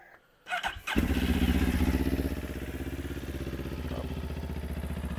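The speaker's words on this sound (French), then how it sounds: "On va démarrer la moto, ça va être plus simple." A motorcycle starting after winter storage: a brief cranking, then the engine catches and settles into a loud, close, steady idle with a pulsing beat.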